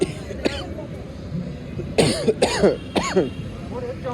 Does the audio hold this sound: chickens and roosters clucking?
no